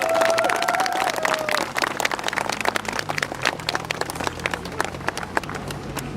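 Applause from an audience welcoming a guest speaker at an event, a steady patter of many hands clapping that thins and scatters toward the end, with no voices over it.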